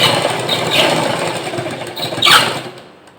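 A sewing machine runs in a brief continuous buzz while stitching close along the edge of a kameez, moderately loud and close.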